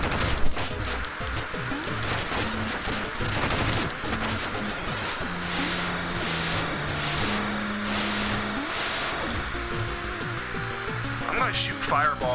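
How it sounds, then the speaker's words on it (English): Fireball attacks fire off in the Shovel Knight game during a boss fight, a busy run of rapid bursts and blasts laid over tonal game music and effects. "I'm gonna shoot fireballs at her too"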